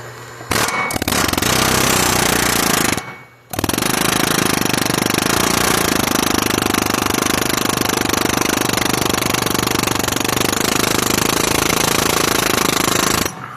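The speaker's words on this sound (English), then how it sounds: "Get the air chisel down in there." A pneumatic air chisel hammers loudly and continuously while knocking a caster bushing out of a front axle, briefly stopping after a few seconds before resuming its rapid, harsh chatter.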